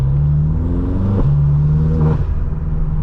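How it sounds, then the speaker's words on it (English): BMW M6 engine revving in traffic, a loud steady low drone with pitch shifts and short crackling breaks that fit exhaust pops as the throttle lifts. "Like when I let off the gas at the top of the RPMs, the pop that comes out the back is crazy"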